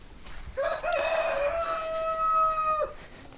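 A single rooster crows once, a clear drawn-out call lasting a couple of seconds against a quiet background.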